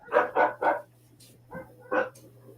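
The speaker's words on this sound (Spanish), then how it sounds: "Lo del ladrido de los perros va a ser épico" Dogs bark close by: three quick barks in a row, a pause, then two more single barks, with a low steady hum underneath.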